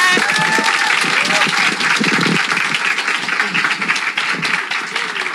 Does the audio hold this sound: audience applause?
yes